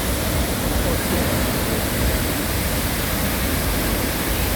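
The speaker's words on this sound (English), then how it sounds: "the sound of this waterfall" La Fortuna waterfall in Costa Rica roars as a loud, dense, unbroken rush of falling water, filling the whole clip with steady broadband noise.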